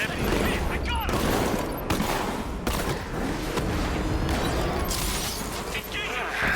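Bursts of gunfire crackle in a Batman Arkham Knight gameplay fight, with rapid shots and booms over continuous combat noise while voices shout in the background.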